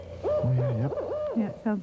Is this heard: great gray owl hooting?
yes